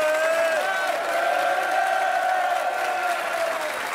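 A television studio audience claps and cheers, with a few whoops and a sustained crowd roar over several seconds at fairly close range, and sung or called-out voices riding over the noise.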